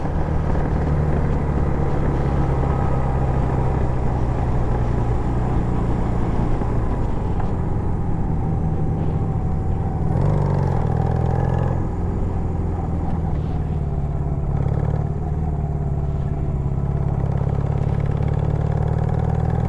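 A motorcycle engine drones steadily and loudly while being ridden in the rain, with a continuous low rumble that shifts pitch slightly now and then, and no one talking.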